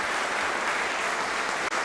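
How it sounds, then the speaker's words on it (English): A squash crowd at the Springfield Scottish Squash Open applauds steadily, a dense, even wash of clapping that holds at full strength throughout with a brief dip near the end. "Crowd absolutely loving it."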